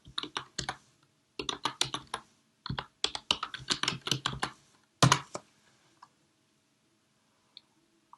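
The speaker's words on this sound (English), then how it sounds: "type laney.edu/library in the address box, then press Enter" A web address typed on a computer keyboard into a browser's address box, with quick close clicking bursts separated by short pauses, then a firm final keystroke and near silence.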